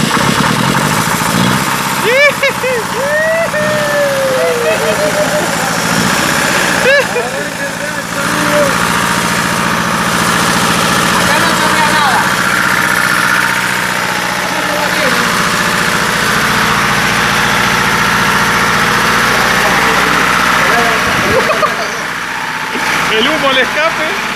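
An old Rastrojero pickup truck engine idles steadily after being started a couple of times and left to warm up. It is a continuous low rumble throughout, with people talking over it.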